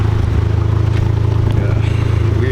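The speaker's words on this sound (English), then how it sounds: "I have to scream because you guys probably can't hear me with my exhaust" An Audi S3 with a loud aftermarket exhaust idles close by, giving a deep, rapid, throbbing rumble with a constant pulsing rhythm and a crackly edge.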